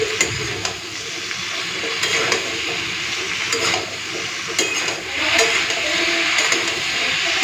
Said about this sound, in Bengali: এই সবজিগুলোকে না হালকা একটুখানি ভেজে নেব